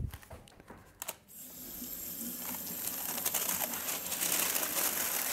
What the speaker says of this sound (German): Einfach unter Wasser halten.